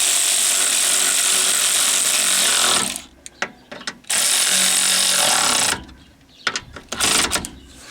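A ratchet works on bolts on a 1992 Chevy Astro van, heard as a loud stretch of dense clicking and mechanical rattle, then a pause, another burst, and scattered sharp clicks near the end.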